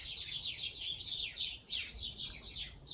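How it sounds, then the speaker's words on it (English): Many birds chirp and twitter in a dense, continuous chorus from a fence line in spring, bright overlapping calls rising and falling steadily at moderate distance with no talk over them. "Birds are going crazy back there in the fence, eh?"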